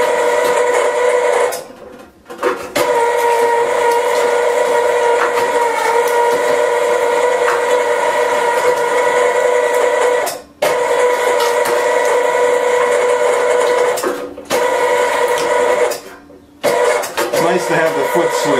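A meat grinder with the fine plate fitted squeals loudly and steadily as its knife grinds a snack stick meat mixture, the high tonal whine running nearly continuously, cut off briefly a few times by short pauses.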